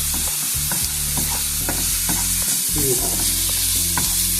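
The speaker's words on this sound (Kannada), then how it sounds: "ಇದು ಸ್ವಲ್ಪ ಫ್ರೈ ಆಗೋರಿಗೂ ಹುರ್ಕೊಬೇಕು" Garlic paste fries in a pan for cabbage gobi manchurian, with a loud, continuous sizzle and repeated scraping strokes from stirring over a steady low hum. No voices.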